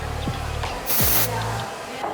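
Texturizing spray applied to a costume, one short hissing burst from an aerosol can, close and fairly loud over faint background hum.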